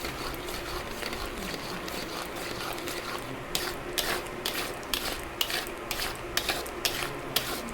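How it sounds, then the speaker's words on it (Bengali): Spoon or spatula scraping and tapping through thickening kalakand milk mixture in a pan, a steady low rumble of cooking with sharp rhythmic scrapes growing more frequent in the second half. "এইভাবে নাড়তে নাড়তে আস্তে আস্তে ঘনত্ব অনেকটাই বেশি হয়ে এসছে আমি এইভাবে নাড়বো আরও কিছুটা সময়"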